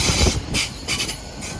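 A train stands at the main station platform in Bristol, its rumble and wheel noise rising and falling, with several brief bright squeals and clatters from the railcars, fairly close with no talk.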